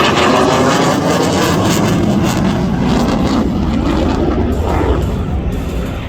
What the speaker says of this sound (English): You see the afterburners come in, and now he's going to go.